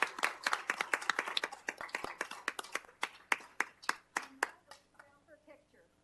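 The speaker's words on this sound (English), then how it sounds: "I think we're supposed to now go yippee and clap." Several people clap at a city council meeting, a run of sharp, close hand claps that thins out and stops, with voices talking over the end.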